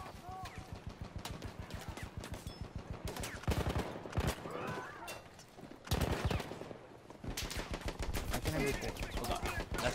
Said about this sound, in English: That sounds like an MG.